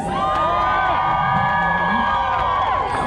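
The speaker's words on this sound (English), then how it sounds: "I want you guys to give a round of applause for our lovely ladies." A car show crowd at the Viva Las Vegas Rockabilly event cheering and shouting loudly, with high whoops and voices blending into a continuous roar throughout.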